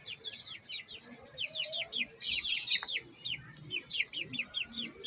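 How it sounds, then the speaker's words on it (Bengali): A young rooster and hen give rapid, repeated high chirping clucks in quick runs, fairly quiet and nearby, with one sharper call in the middle and faint background noise. "সামনেরটা মোরগ পিছরটা মুরগি"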